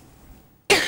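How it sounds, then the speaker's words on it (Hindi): A single sharp cough bursts out loud and close after near silence, cut off abruptly. "सॉरी मुझे खांसी का एक दौरा पड़ गया"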